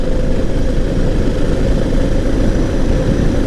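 A Suzuki DR650 dual-sport motorcycle cruises in fifth gear on a city road, its engine a loud, unbroken low drone mixed with rushing wind noise.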